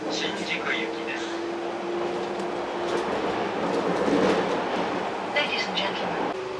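The Narita Express bound for Shinjuku rumbles along with a steady, moderate interior drone. A calm onboard voice announcement plays over the train noise.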